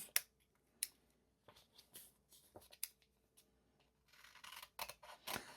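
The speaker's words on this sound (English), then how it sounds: "I'm going to carefully trim this. so that I don't cut off the envelope flap itself." Paper being trimmed with scissors along the edge of an envelope, heard as sparse, close snips and crisp rustles separated by pauses, with a denser run of cutting and paper handling toward the end.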